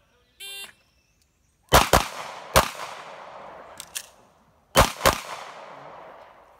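Gunshots fired on a practical shooting match stage, a loud sharp volley of about five reports in two quick pairs and a single, preceded by a brief start beep, with no talk.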